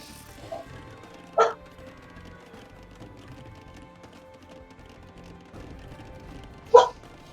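A pet dog barks indoors at home, two short sharp barks several seconds apart over a quiet background.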